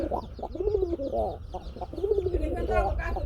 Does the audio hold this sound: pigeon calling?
yes